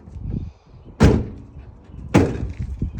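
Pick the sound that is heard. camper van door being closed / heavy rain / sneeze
camper van door being closed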